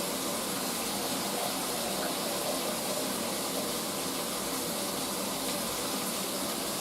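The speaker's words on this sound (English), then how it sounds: "I will drain the water off these beans" Water from cooked beans pours steadily out of a pot into a sink, a continuous broadband gush that stays loud and even from start to finish, with no voices.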